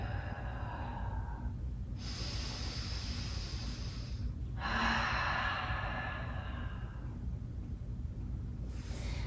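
Slow, deep breaths during a vinyasa yoga flow, two long airy exhales in and out over a constant low background hum, soft and close with no speech.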